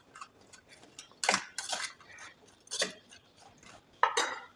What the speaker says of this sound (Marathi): हे बस चमच्याने आपल्याला एकत्र करून घ्यायचं आहे